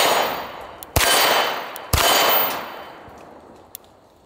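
Staccato handgun, a P or C2, firing two sharp, loud shots about a second apart, each followed by a long ringing decay outdoors, then a faint metallic clink.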